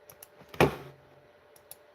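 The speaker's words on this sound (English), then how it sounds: "I'm trying to type." Keys click on a computer keyboard, a few light taps then one louder cluster of strokes, close and quiet in an otherwise silent room.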